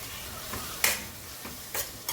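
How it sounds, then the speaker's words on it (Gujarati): Garlic-ginger paste being stirred into a veg Manchurian mixture with capsicum in a pan, heard as soft, intermittent scraping strokes over a faint sizzle, with a few brighter clinks of the spoon against the pan. "આપણે એમાં લસણ અદરકની પેસ્ટ ઉમેરી લઈશું અને બરાબર હરાક મિક્સ કરી લઈશું"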